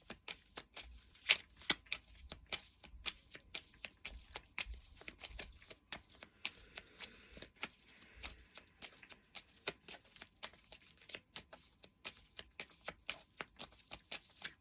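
Tarot cards being shuffled by hand, a continuous run of quick crisp riffles and slaps, close and fairly quiet, with no talking.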